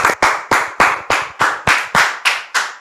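Rhythmic, unified clapping in a French-speaking church gathering welcoming a guest, about ten loud, evenly spaced claps in steady time, close and prominent with no talk over it.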